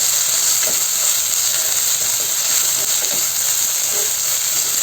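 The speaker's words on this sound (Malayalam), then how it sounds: "ചീരയെ ചേർത്ത് കൊടുത്തിട്ട് നന്നായിട്ട് ഇതിനൊന്ന് ഇളക്കി യോജിപ്പിച്ച് കൊടുക്കാം" Spinach for keerai kadayal sizzling and steaming in a hot pan, a steady loud frying hiss with faint stirring scrapes throughout.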